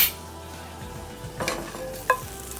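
Butter and a little olive oil sizzle steadily in a heated skillet, a close, continuous crackle with a brief clink of a utensil near the end.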